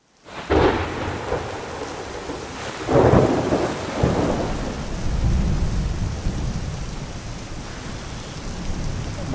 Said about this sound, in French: il commence à pleuvoir des cordes et le ciel ne me rassure pas du tout